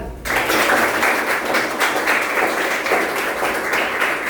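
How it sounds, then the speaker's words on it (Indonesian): A classroom full of students claps together, a dense, steady round of applause that begins abruptly and carries on for several seconds. "Oke, tepuk tangan."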